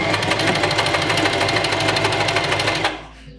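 A sewing machine stitching concentric circles in practice sewing, a fast steady mechanical whir with rapid even needle beats, loud and close, stopping abruptly near the end.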